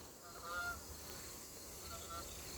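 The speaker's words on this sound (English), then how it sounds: "Hear the geese?" Several geese at a lake give a few faint, distant honks, one cluster early and another near the end, over a steady outdoor hiss.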